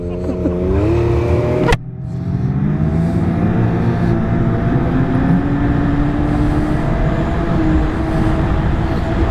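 Lynx XTerrain 900 Turbo R snowmobile riding along a wide logging road, its engine droning loud and steady throughout with a sharp click near the start and rising pitch as it accelerates.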